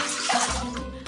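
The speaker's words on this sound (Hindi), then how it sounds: "उसने जल्दी से अपना फेस वॉश किया" A boy quickly washes his face, with close, continuous splashing water running and sloshing for about a second and no voices.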